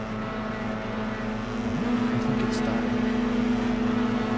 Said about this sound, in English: You can hear everybody revving.